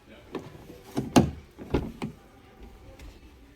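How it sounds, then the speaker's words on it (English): The rear door of a Hyundai car is worked by hand: a latch click, then two solid thumps as the heavy door shuts, close by in a quiet space, with faint handling noises after. "The door feels heavy."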